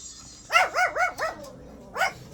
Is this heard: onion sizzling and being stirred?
no